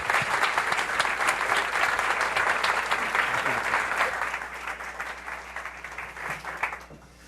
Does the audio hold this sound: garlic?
no